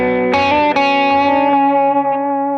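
An electric guitar plays a short solo phrase with a pronounced delay effect, sustained distorted notes ringing out as echoes repeat and trail off, loud and close.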